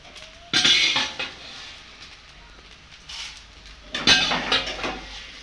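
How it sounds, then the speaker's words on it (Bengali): Fried spices for a hog plum pickle are scraped from a pan onto a metal plate in two bursts of clattering and clinking utensils, separated by a quieter pause. "এবারে আমি মশলাগুলোকে একটা থালার মধ্যে তুলে নিচ্ছি"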